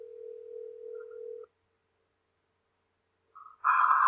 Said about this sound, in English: I hear somebody else's ringtone!